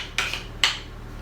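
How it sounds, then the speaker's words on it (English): A spoon scraping sticky bread dough from a mixing bowl makes two short, quiet scrapes about half a second apart over a faint steady hum, with no talking. "Scrape off all those bits off your spoon as well"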